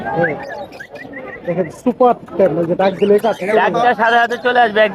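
Diamond dove pigeons at a bird market in Tongi coo in short soft bursts, mostly under and between loud, close voices of people talking.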